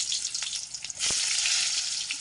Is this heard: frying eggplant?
yes